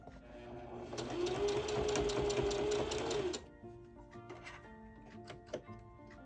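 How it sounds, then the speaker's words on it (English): A sewing machine runs steadily for about two seconds, a rapid mechanical whir and needle rattle stitching a fabric seam, then stops, leaving soft handling clicks and rustles nearby. "I'm going to put my needle back in the fabric, pick up my presser foot, and give it a turn"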